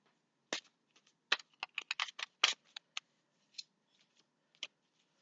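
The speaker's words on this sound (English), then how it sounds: "So I'm going to start shuffling now." Tarot cards are shuffled by hand in a quiet room, with short crisp riffling bursts and taps coming in irregular clusters.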